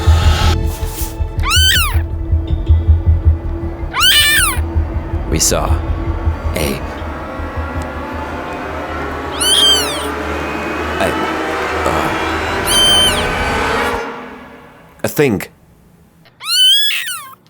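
A baby kitten meows in the bushes outdoors, repeated high, thin cries spaced a few seconds apart, close and clear over a constant mechanical hum, with a person speaking briefly between the calls.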